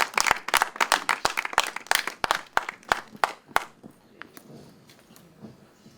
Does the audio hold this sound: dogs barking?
no